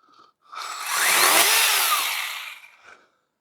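An Atlas 80V cordless pole saw cuts through a branch around 1.5 to 2 inches thick, its motor rising to a loud, steady whine for about two seconds, then dropping away. Short bursts of idling come before and after.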